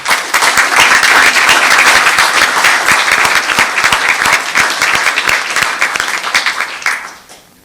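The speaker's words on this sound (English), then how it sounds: "let's give a round of applause to all of them" A crowd at a Los Gatos town council meeting bursts into steady, enthusiastic applause, many hands clapping together for several seconds before it tapers off and fades out.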